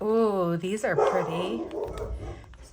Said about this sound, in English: Sorry about my dog barking out there.